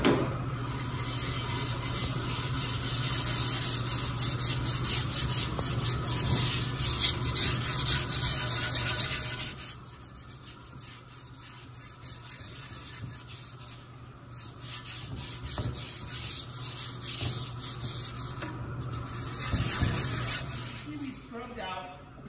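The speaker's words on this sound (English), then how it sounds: "We'll sprinkle some salt in there, and that acts like an extra layer of abrasion." Rust being scrubbed from a cast iron skillet with salt, a continuous gritty rubbing that is loud at first, then softer and uneven, with someone talking at times.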